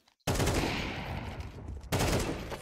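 Rapid, dense gunfire in a Counter-Strike esports match, an IEM Chengdu 2024 South American closed qualifier semifinal, sounding as loud, sustained automatic bursts after a brief quiet start. The burst cuts out for a moment and then resumes.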